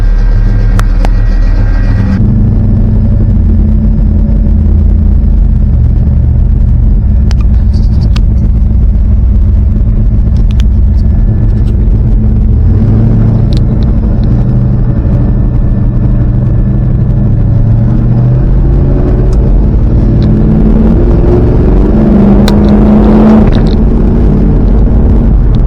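A modified car engine drives along with a loud, steady low rumble that rises and falls as the car accelerates and shifts, continuous throughout without talk.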